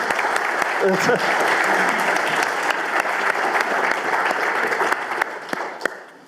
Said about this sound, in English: A big round of applause to Lorraine and Charlotte